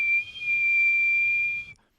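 A person whistles one sustained high tone, clear and close, holding steady for almost two seconds before stopping abruptly.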